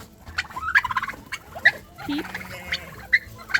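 Turkeys gobble in repeated bursts of rattling calls while scratching in dirt, several loud, close gobbles spread across the moment.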